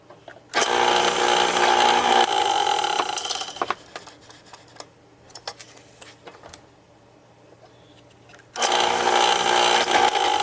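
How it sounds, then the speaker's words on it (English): A power drill whines loudly for a few seconds boring magnet holes in a wooden box lid, stops amid clatter and handling noises, then starts again near the end. "So we'll drill these real quick, and then we'll glue in the magnets."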